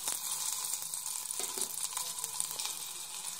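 Crushed garlic cloves hitting hot oil in a pan while cooking okra sambar give a steady, close frying sizzle with soft crackles that runs without pause throughout, no voices.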